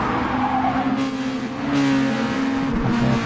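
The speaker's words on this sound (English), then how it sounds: "Tyres squealing." Race car in GT Sport at the Red Bull Ring, tyres squealing under a loud, close engine roar that surges and shifts pitch throughout.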